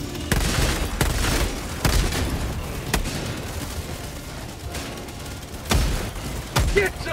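In Helldivers 2, guns and a turret fire in heavy bursts: loud booming volleys and rapid shots come in irregular clusters, with a voice talking over the combat.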